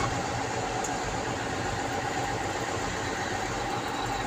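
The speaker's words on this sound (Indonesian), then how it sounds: "kita hidupkan mesin," A truck engine running at a steady idle, a dense continuous rumble and drone that stays loud and even throughout, with no voices.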